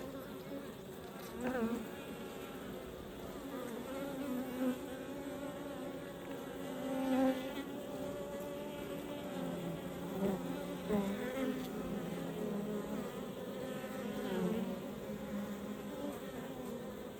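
Honey bees hum steadily around an open hive during a frame inspection, a dense continuous buzz with individual insects swelling louder as they pass close, no voices over it.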